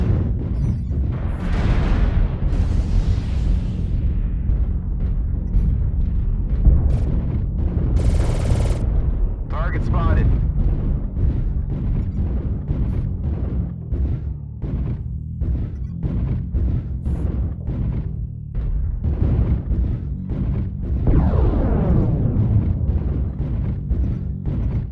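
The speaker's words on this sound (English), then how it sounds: "Missile." Dense, continuous booming from missile impacts and weapons fire in a MechWarrior battle with a Timberwolf mech carrying ATM launchers, heavy low rumbling blasts stacked closely together with a sweeping whine, under a synthetic voice announcing alerts.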